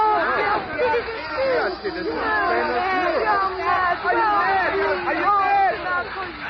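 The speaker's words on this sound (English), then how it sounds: "The crowd's gone nuts." A riotous cartoon crowd roars and shouts in an agitated mass, overlapping voices rising and falling in a continuous frenzied babble.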